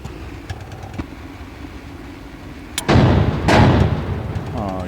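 A tank cannon fires in the Sprocket tank-building game with a loud, booming blast, a second heavy blast soon follows, and engine rumble sits underneath, after some quieter clicks and mechanical noise.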